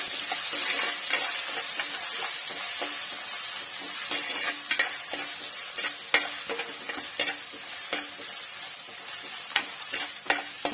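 Ginger, shallots and green chillies sautéing in hot coconut oil in a pan, a steady close sizzle broken by regular clicks and scrapes of stirring.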